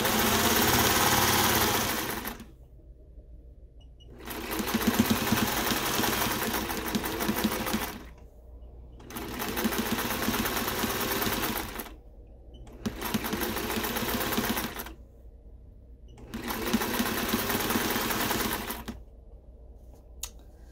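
A sewing machine topstitches an elastic casing on a shirt sewn from bedsheets, its needle burring in four long steady runs separated by short quiet pauses, close and loud with no talk.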